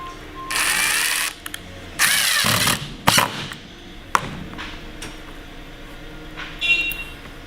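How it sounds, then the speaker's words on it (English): A power drill whirs in short bursts, driving screws through an L bracket into a cabinet, stopping and starting several times, with clicks and clunks between runs, close by. "put your screw on there, and drill through."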